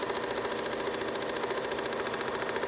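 A sewing machine stitches through paper, its needle running at a steady rapid rhythm: a continuous mechanical whir and patter, close and even throughout, with no voices.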